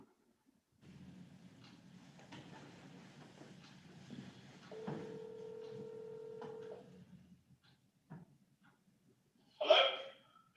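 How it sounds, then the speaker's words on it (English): During a town board meeting, a phone is dialed to reach a participant, a faint, steady tone followed by a short burst of keypad beeps amid low room noise. "You trying to call him, Christine?"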